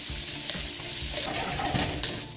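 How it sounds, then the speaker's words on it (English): Onions caramelizing in a pan over medium heat for cheesesteak, a close, steady sizzle and hiss with soft stirring movement and one brief sharp tick near the end. "We're just going to caramelize these onions."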